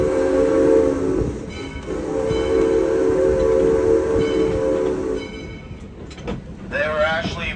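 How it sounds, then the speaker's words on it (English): Steam locomotive on a logging railroad in the Sierra performing a blowdown, a steady loud hiss with whistle-like tones purging sediment and soot from the engine and stacks, fading toward the end as other noises and voices come in. "They were actually purging their engine and their stacks to be able to get all the sediment and soot out of it"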